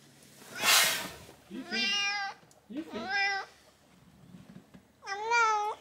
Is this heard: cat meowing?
yes